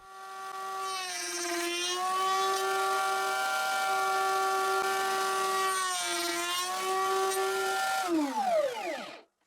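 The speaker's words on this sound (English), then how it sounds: "I set the position of my workpiece and I route." A woodworking router cuts a dovetail joint in a wooden workpiece, giving a steady, loud high-pitched motor whine that dips briefly twice under load before the motor spins down at the end.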